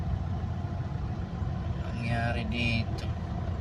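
Heavy morning traffic on the Skyway, with the steady rumble of idling and creeping cars and trucks close around, while someone speaks over the engine noise.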